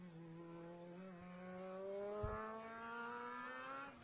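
Formula SAE race car engine at a track event, its tone rising steadily as it approaches from a distance, faint and droning with a slow climb in pitch and no talk over it.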